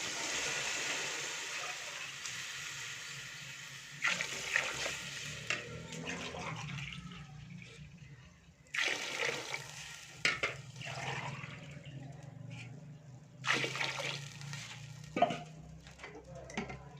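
Water poured into a cooking pot of rice and black-eyed peas in a home kitchen, arriving in several splashy bursts with quieter gaps and faint background noise between pours.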